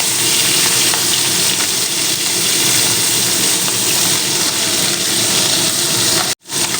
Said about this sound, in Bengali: তেলটা খুব ভালো মতন গরম হয়ে গিয়েছে এবার দিয়ে দেবো নুন আর হলুদ মেখে রাখা মাছ